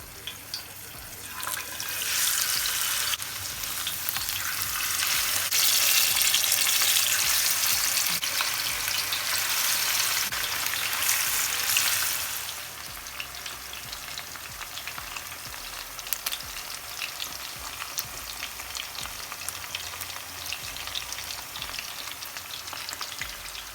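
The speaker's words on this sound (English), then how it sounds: "So now we're going to fry the fish. I'm adding some oil to my skillet and some garlic and pepper" Fish fries in oil with garlic and pepper in a skillet, a loud, dense sizzle that swells for several seconds and then settles to a quieter, steady crackle.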